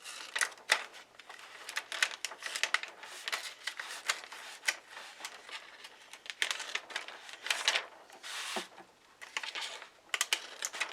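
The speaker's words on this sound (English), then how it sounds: "now what I'm going to do is cut this right here" Material being cut by hand for a welcome sign, with a quick run of close, crisp snips, crinkles and scraping clicks that come in uneven bursts throughout.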